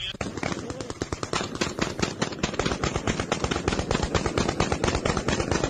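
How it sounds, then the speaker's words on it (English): A .50 caliber machine gun fires a long, sustained burst of rapid, evenly spaced shots, loud and close, with no pauses. "That's a 50 cal with no hearing protection?"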